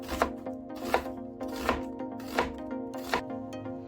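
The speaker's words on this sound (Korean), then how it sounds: "제육볶음에 넣을 파를 어슷하게 썰어주고 양파는 너무 얇지 않게 채 썰어준 다음에" A knife chops through green onion and onion on a cutting board for Korean spicy pork stir-fry, five crisp, evenly spaced strokes about every three quarters of a second, close and fairly quiet.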